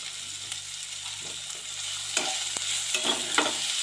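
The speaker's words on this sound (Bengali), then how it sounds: "নাড়াচাড়া করে মিডিয়াম আছে ভালোভাবে ভেজে নেব" Chopped capsicum and tomato with salt stir-fried over medium heat, a constant sizzle with occasional soft spatula scrapes, close by.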